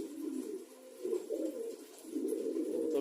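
Pigeons coo steadily and close by in a home loft, their low, rolling calls overlapping in continuous waves with brief dips between bursts.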